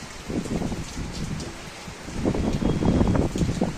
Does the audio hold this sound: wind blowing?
yes